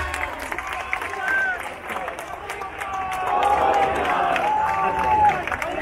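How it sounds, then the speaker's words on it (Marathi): An outdoor crowd applauds and cheers a women's Govinda team building a human pyramid at a Dahi Handi festival in Kankavli, Maharashtra, a broad murmuring roar with scattered clapping that swells toward the end. Whistles and a voice sound over it. "त्याच्यासाठी जोरदार टाळ्या।"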